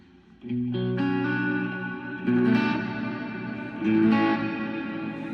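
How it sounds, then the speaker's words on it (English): A sustained instrument chord rings out through a Plethora X1 pedal's reverb, a lush, spacious tail swelling in two louder bursts and decaying smoothly between them. "It's just another flavor of reverb that I wanted to be able to call up"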